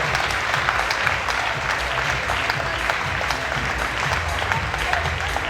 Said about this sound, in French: Vous les applaudissez, s'il vous plaît, association Le Mur.